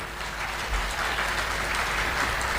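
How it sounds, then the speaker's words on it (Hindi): A crowd claps steadily for a couple of seconds, a dense patter of applause with no talking over it. "इनकी स्वागत की ताली मारो।"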